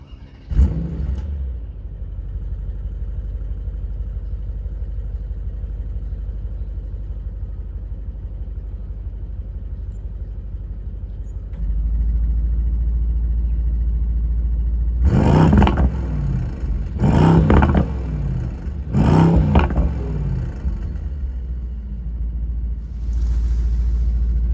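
2025 Mercedes-AMG GT63 Coupe engine: a sharp blip, then a long steady rumbling idle that deepens, followed by three loud, close revs in quick succession and a final lighter throttle burst.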